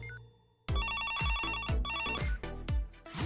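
A phone rings in a Barbie cartoon with a bright electronic melodic ringtone that starts abruptly after a short quiet moment. A repeating pattern of chiming notes plays over punchy beats, loud and close, with no voices.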